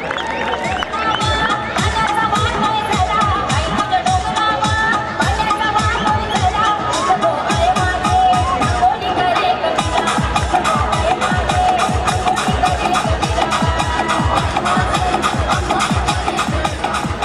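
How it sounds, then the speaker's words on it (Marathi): Spectators at a cricket match erupt after a wicket falls, a sustained loud roar of cheering and shouting from a large crowd, with rhythmic clapping or drumming pulsing underneath throughout. "आकाश तारेकर बाद झाल्यानंतर जो जल्लोष झाला"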